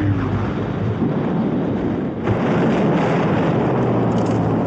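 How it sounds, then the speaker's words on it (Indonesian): A loud, sustained explosion rumbles outside a cave in a war film, a dense low roar with a brief dip before swelling again and continuing steadily to the end. "tiba-tiba sebuah ledakan pun terjadi di luar goa"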